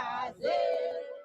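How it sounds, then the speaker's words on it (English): A small, intimidating mob closes in on a shop while hunting for foreigners in South Africa, a crowd yelling in a sustained, rising group shout that is fairly close and loud. "It's a small crowd, but an intimidating one."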